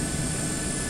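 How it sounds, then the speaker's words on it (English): Rotor and engine drone of several helicopters in the flight simulator MSFS 2024, the Airbus H125 among them, on a group flight over Lake Tahoe. A steady, loud, continuous whir with no talk over it. "All the sound you hear is the other helicopters."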